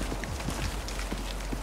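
A horse in the survival video game Icarus clip-clops with quick, irregular hoofbeats over a dense, noisy ambient bed, moderately close, with no talking.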